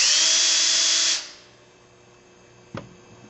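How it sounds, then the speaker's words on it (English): A power drill bores a hole in a gear housing beside a bolt, a loud steady whine running for just over a second, then stopping abruptly, followed by quiet hum and one brief knock. "you'll be drilling another hole a 1/2 inch to the left of the top bolt that holds your gear housing"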